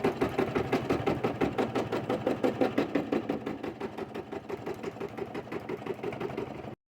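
An embroidery machine stitches a design for a pen holder with a fast, steady mechanical chatter of needle strokes, loud and close, running continuously until it stops abruptly.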